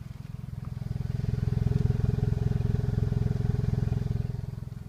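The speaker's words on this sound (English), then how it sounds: "it's got a pretty nice exhaust on it now. It doesn't sound great" A 2012 Kia Forte Koup SX exhaust idles and runs close by, a steady low pulsing drone with a rapid regular throb and no talk over it.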